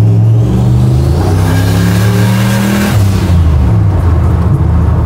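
A 760HP turbo Chevy C10 pickup engine revs up hard, its pitch climbing through two accelerations with a brief dip between, loud and close with a steady mechanical roar.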